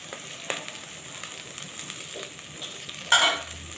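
Pasta with garlic, peppers and spices sizzles softly in a pan while a utensil stirs and scrapes it, bringing occasional light taps and one louder clatter near the end.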